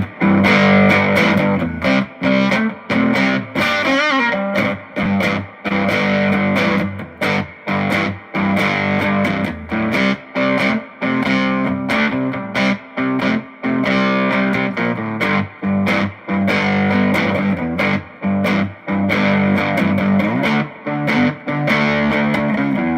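An electric guitar with P-90 pickups plays through heavy distortion, loud and sustained chords with rhythmic chopped stops and short gaps between strums, carrying on unbroken with no talking.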